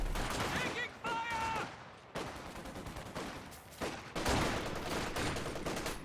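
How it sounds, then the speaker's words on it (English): An MG34 machine gun fires bursts in Company of Heroes 2, with rapid volleys and gunfire clatter running through the whole stretch and brief gaps between bursts. "MG34 is the worst machine gun, but also the cheapest"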